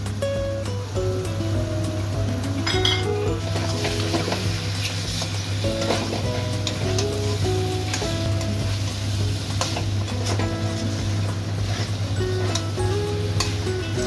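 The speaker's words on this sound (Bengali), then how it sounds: "এখন আমি চর্বিটা দিয়ে ভালো করে আবার একটু কষিয়ে নেব" Mutton frying and being stirred in rendered fat in a pan, a steady close sizzle with scraping stirs throughout and a constant low hum beneath.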